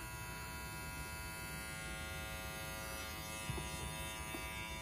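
A JRL FF 2020C hair clipper runs with a steady, fairly quiet electric buzz and hum, even and unbroken throughout with no talking.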